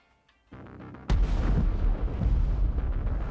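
After a quiet hum, a sudden loud explosion booms in the video game Saints Row: The Third Remastered, followed by a sustained rumbling roar and crackling debris, heavy and close.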